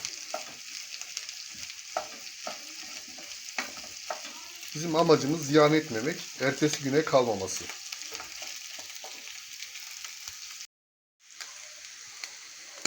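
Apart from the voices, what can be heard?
rice toasting and sizzling in pot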